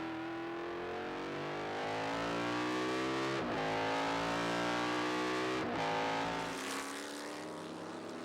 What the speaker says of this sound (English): Awesome sounds from the stock block 5-litre Formula 5000s.